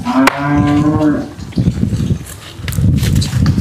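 A loud, close moo from a Holstein Friesian calf, drawn out for about a second, followed by shuffling and rustling noises from the surroundings.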